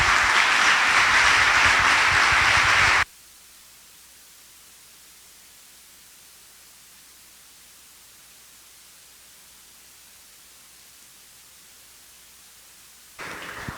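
Congregation applause for the pastor at a Saturday evening church service, a dense wash of clapping for about three seconds before cutting to near silence, then resuming faintly at the end.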